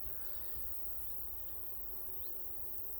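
Bees and flies buzz around a freshly opened beehive during an inspection, a steady faint insect drone with a couple of brief passing buzzes close by, no talking.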